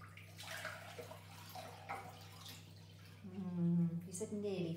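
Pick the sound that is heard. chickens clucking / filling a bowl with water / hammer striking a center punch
filling a bowl with water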